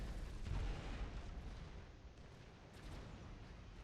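Strategy-game bombers drop ordnance on units, producing a low, rumbling wash of distant explosions and muffled booms. The blasts stay faint and continuous, with no voices.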